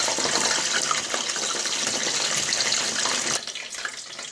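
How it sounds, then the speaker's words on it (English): Water from a pan covering dripping into hot frying oil while johnny cakes fry, a loud continuous sizzling and crackling hiss that drops slightly near the end. "there's water from the covering that's falling into the oil"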